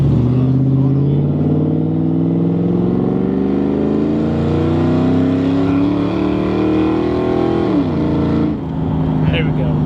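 An SN95 Ford Mustang with a Borla ATAK exhaust and BBK off-road H-pipe revs up in one long smooth climb over several seconds, then drops sharply back toward idle, loud and close.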